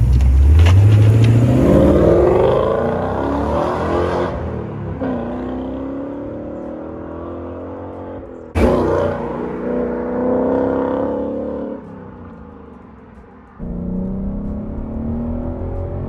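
A Ford Mustang V8 with a Milltek non-resonated exhaust roars as it accelerates hard on the road, revs climbing in pitch, then drops between gear changes before pulling again, loud and close with a deep exhaust note.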